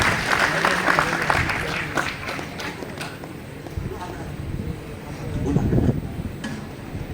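A crowd claps in a dense, crackling burst at a BAPS Swaminarayan temple event in Jodhpur that carries on steadily, with some rough wind buffeting on the microphone.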